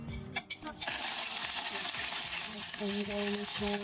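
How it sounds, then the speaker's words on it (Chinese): Spices fry in a generous pour of hot oil in a wok. After a couple of light clinks, a loud, steady, crackling sizzle settles in and runs to the end, with a few faint tonal sounds near the close. "现在拿去油炸一下，锅里倒些油，多来一点。"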